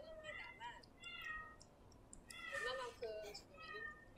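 A cat meows in a series of short, high calls, several in quick succession, fairly close over a faint background.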